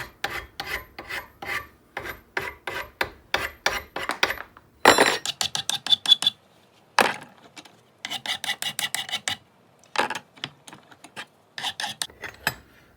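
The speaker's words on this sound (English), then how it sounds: "So you can grind this all off like this" Metal being ground off a vehicle axle in quick, rasping back-and-forth strokes, a steady scraping rhythm with brief pauses, close and fairly quiet.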